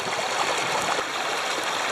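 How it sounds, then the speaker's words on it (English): A fresh outdoor waterfall pours in a steady, broad rush of splashing water, close and continuous with no talk. "So I've got a beautiful fresh waterfall here that I'm really excited about brewing with."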